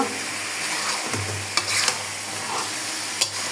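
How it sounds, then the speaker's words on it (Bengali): Chicken pieces and ground spice paste frying in oil, a loud close sizzle with brisk stirring scrapes and a few sharp clinks of the spatula against the pan, no talk. "মুরগিটা একটু মশলাটা তেলে দিতে ভালো ভাবে একটু ভাজা করব"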